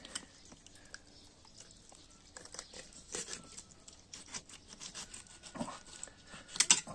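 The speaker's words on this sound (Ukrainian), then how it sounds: "І тоді легенько будемо поздовж різати по хребті." Knife slicing lengthwise along the spine of a smoked fish, soft rasping and crinkling strokes in short irregular bursts, close up, with no voices.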